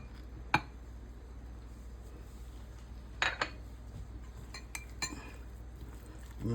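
A utensil mixes scooped baked potato flesh with butter and chicken-seafood stuffing in a dish, producing a few sparse clinks and light scrapes over a quiet background.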